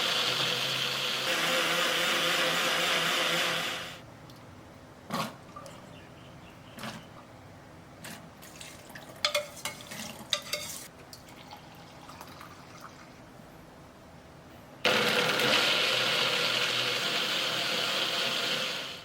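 An electric blender whirs loudly as it purees boiled soybeans with water for Korean kong-guksu cold noodle soup, in two steady bursts at the start and near the end, with quiet clinks and drips in between and no speech.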